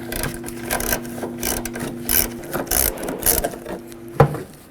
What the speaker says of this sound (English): Take this bolt out with a 10mm socket.